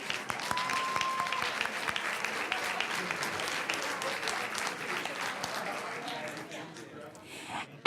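An audience at a school board meeting gives a round of applause for a student, with steady massed clapping that fades near the end and faint talk underneath.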